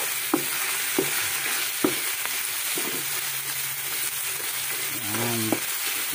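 Ground pork sizzles steadily in a pan while being sautéed, with sharp intermittent scrapes and clanks of a utensil stirring the meat, close and moderately loud.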